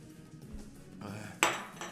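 Tea glass clinking in shaking, trembling hands: a soft rattle, then one sharp, close clink about two-thirds of the way through, with a lighter tap after it and no talk.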